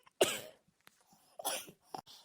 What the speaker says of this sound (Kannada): ಈ ಹಾಳಾದ ಕೆಮ್ಮೆರೆ ಕಾಣಿಸ್ಕೊಬಿಟ್ಟು ಗೂರ್ಲು ಆದಂಗೆ ಆಗ್ಬಿಟ್ಟಿದ್ದೀನಿ